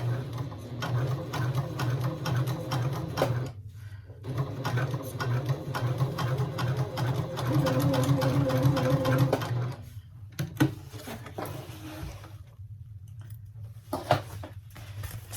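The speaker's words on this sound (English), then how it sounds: "So here I pushed the fabric together when I was sewing." Sewing machine running steadily as it stitches fabric for a tote bag, a continuous whirring hum with a rapid needle rhythm that stops around ten seconds, leaving a few clicks and handling noises.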